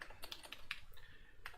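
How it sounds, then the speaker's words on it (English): Computer keyboard typing at a desk during a coding session, with irregular bursts of close, crisp key clicks and clacks, fairly faint and alone with no talking. "can you hear my keyboard clicking and clacking?"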